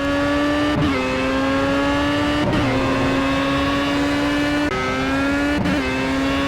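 Race car engine in Project CARS at Brno, a steady loud high-pitched whine holding near-constant pitch, briefly dipping at three gear shifts, with another car's engine layered in.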